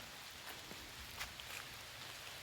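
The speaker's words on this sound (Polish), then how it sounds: "Deszcz pada." Steady rain patters on a surface, a soft continuous hiss with occasional individual drops standing out, fairly quiet throughout.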